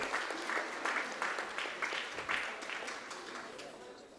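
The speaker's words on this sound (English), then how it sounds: "One more round of applause, ladies and gentlemen" An audience at a university vice-chancellor's distinguished awards ceremony claps in a fairly quiet, uneven round, individual claps standing out in a soft rhythmic patter that tapers off toward the end.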